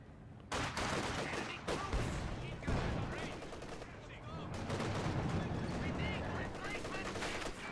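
Dense machine gun fire from a Company of Heroes 2 battle, with sustained automatic bursts and overlapping shots that continue almost without pause, loud and busy throughout.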